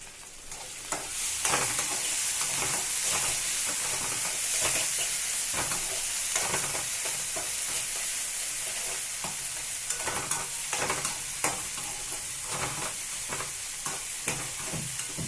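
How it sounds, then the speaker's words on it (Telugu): Onions with masala frying in a generous amount of oil, a loud continuous hiss with frequent scraping stirs and small crackles throughout. "లైట్గా వేగిందండి ఉల్లిపాయలు."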